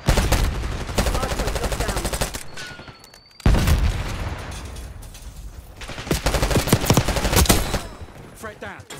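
Rapid bursts of automatic gunfire in Call of Duty: Black Ops 6, loud and dense, broken by a brief pause before the shooting resumes.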